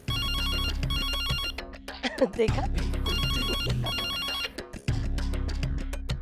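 A telephone rings in repeated electronic bursts, loud and close, as a dramatic music sting swells between the rings; a voice speaks briefly in the middle.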